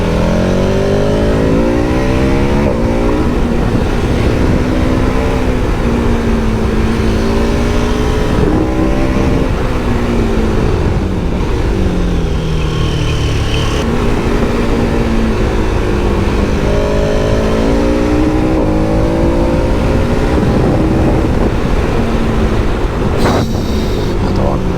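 A KTM 1290 Super Adventure S motorcycle engine revs hard above 6000 rpm while riding, a loud, continuous droning roar that rises and falls in pitch with throttle changes, with a rider's voice talking over it.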